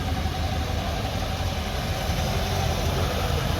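A Super C tractor engine idles steadily at a farm show parade, giving a continuous low, even rumble with no pauses and no voices over it.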